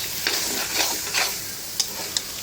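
Dried ghoinna shutki fish and banana stem being stirred in a pan of hot oil, with a steady bright sizzle and a few sharp scrapes of the spatula as it is turned.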